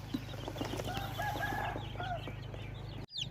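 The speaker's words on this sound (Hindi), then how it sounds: "क़याम स्मानी प्योर इंडोनेशियन ब्रीड ब्लैक टंग के चिक्स हैं जी" Pure Indonesian black-tongue Ayam Cemani chicks in a packed carton peep and chirp repeatedly over a steady low hum, ending with a brief rustle.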